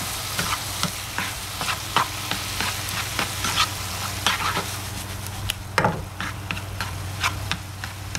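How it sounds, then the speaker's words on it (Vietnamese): Pork trotter being stir-fried for pâté in a cast iron pot, sizzling steadily with repeated scraping and stirring clicks from a utensil, close and continuous throughout with no talking. "Khi mình xào như vậy một hồi mình bỏ vào nồi mình nấu thì nó rất là thơm cái mùi pate."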